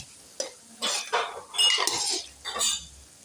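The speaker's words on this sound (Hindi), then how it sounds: "अब मैं डिश आउट करूँगी मिक्स करके" A spoon scrapes and clinks against a pot while beef karahi is mixed and dished out, a series of close metallic scrapes and taps in irregular bursts with a faint low hum beneath.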